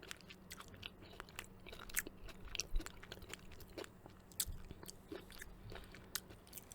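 Close, quiet crunching and chewing of sunflower seeds in a sweet potato curry, with irregular crisp bites and soft mouth sounds scattered across several seconds.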